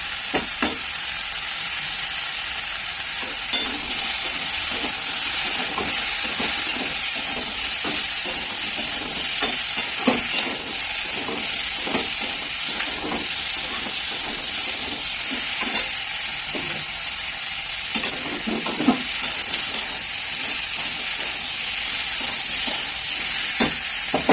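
Fish curry masala for macher jhal frying in a pan with ginger, a steady sizzle under repeated scraping stirs of a spatula, close and continuous throughout with no talk.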